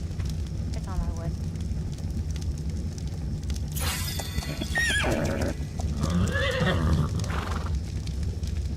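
A horse in the game ARK: Survival Evolved gives a loud, drawn-out neigh with hoof clip-clops around it, over a constant low in-game background hum.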